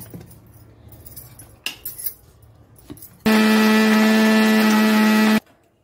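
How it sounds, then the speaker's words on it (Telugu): A mixer grinder blitzes sugar for a chocolate milkshake, a loud, steady, high whirring roar lasting about two seconds, preceded by soft kitchen clatter and followed by a quick cutoff. "మిక్సీ పెడుతున్నాను."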